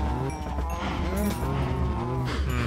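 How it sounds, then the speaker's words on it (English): Cows mooing in the Minecraft FTB modpack, several overlapping drawn-out moos layered close together over a low steady background. "I was gonna get some wheat to actually go breed my cows that I have over there."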